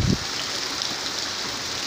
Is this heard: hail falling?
yes